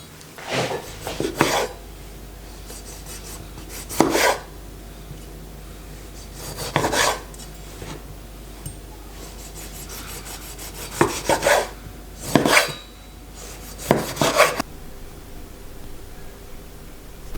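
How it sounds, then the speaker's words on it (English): Knife slicing cherry tomatoes in half or quarters on a cutting board for a Maltese octopus stew, a few sharp close cuts spaced apart over a faint steady background hiss. "Cherry tomatoes for extra flavor. I will cut these in half or in 4, depending on the size of the tomato."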